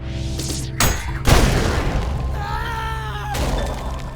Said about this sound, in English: You press melee at the right time and it sends that projectile right back, making a giant explosion.